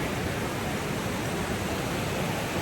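Creek water pouring over slippery logs at a trail crossing, a dense steady rushing wash with no breaks, close and fairly loud throughout.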